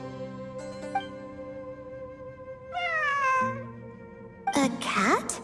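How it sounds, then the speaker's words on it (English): A cat in the video game Genshin Impact meows several times, clear and close, with drawn-out rising and falling cries over a soft ambient backdrop. "A cat?"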